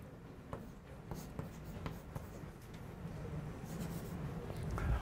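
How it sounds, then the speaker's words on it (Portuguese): Chalk or marker writing on a board during a university calculus lecture, a steady scratchy stroke sound with short taps, moderately close in a quiet room. "eu vou escrever assim."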